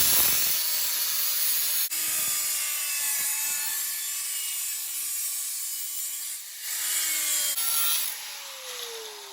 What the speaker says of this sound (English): we're trimming off our excess now.